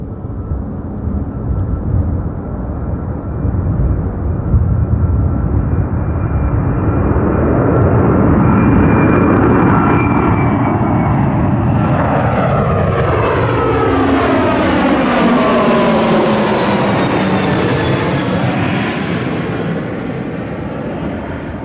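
An Air Transat Airbus A321neo jet bound for Toronto at Gatwick Airport roars loudly and steadily as it passes, with a rising and falling engine whine sweeping through the pass.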